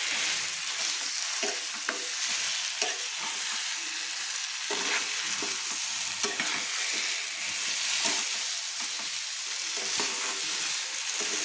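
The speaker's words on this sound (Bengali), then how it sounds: "আমি খুন্তি দিয়ে চারপাশ থেকে আমি নেড়ে নিলাম" A spatula stirs potol chingri gravy with potato and prawn in a pan, giving a steady scraping and stirring sound over a light sizzle that runs through the whole stretch, close and moderately loud.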